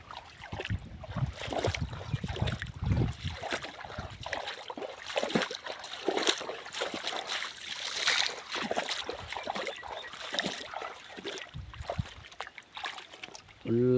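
Irrigation water flowing through a field channel into a banana plantation, a continuous close trickle and gurgle with brief louder splashes early on and a person's voice heard now and then over it.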